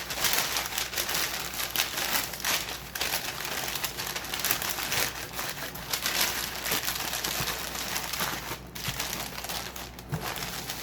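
Steady rustling and crinkling of packing paper being crushed and stuffed into a box, continuous and close, with occasional cooing birds faintly in the background.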